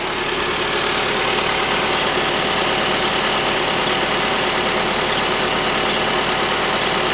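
2016 SEAT Leon Cupra 290 ST with a 2.0T inline-four engine and stock exhaust, held at steady raised revs in Cupra mode, giving a constant loud, buzzing engine drone with no breaks.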